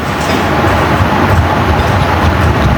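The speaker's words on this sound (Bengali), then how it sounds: "হুইসেল দিয়ে দিছে এখনই বের হয়ে যাচ্ছে ট্রেন" Lalmoni Express, a meter-gauge passenger train, pulls out of a station with a loud, steady rumble and wheel clatter heard from close range.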